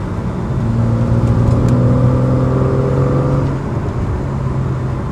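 A BMW E36 323i fitted with an M50 intake manifold accelerates hard, its six-cylinder engine a loud rising drone with strong steady harmonics that climbs, holds, then eases off near the end, heard from inside the car.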